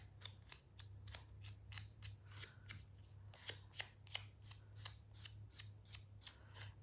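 A hand file rasps gently along the edge of a paper cutout during a craft project, in quick, quiet, evenly spaced strokes over a low steady hum.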